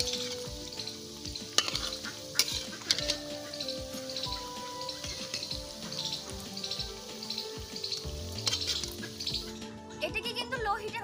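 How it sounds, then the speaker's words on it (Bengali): Thekua dough cakes deep-frying in oil over low heat, a steady close sizzle with scraping and light clinks as the pieces are flipped, soft talk faintly underneath at times. "এবার আমি ঠেকুয়াগুলোকে উল্টিয়ে দিচ্ছি"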